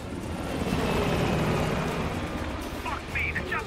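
A helicopter in the Call of Duty Black Ops Cold War video game, its rotor and engine producing a steady loud drone that fades slightly toward the end, with voices talking over it.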